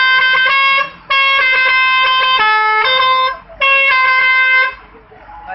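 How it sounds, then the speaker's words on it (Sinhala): A vehicle horn blares loud and near in long, steady blasts, first a brief one, then a long held honk, a short gap, and another sustained blast before it cuts off. "අනේ හෝන් එක."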